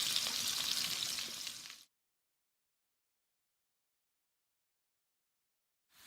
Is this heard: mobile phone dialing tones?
no